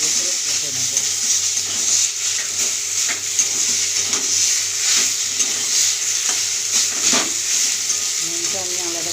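Taro greens and chickpeas for a shrimp and hilsa kochu shak fry in a pan, giving a constant sizzle with repeated scraping stirs of a spatula close by.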